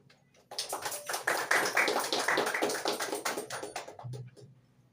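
Ceremony audience applauding the minister of social affairs at an official installation event, a sudden swell of many hands clapping together, sustained and fairly loud for several seconds before fading out.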